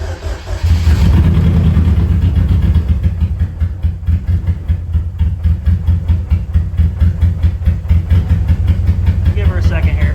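A car engine started after the fuel pump is primed a couple of times, then running steadily at a rough idle with loud continuous low rumble and uneven pulsing, close by throughout.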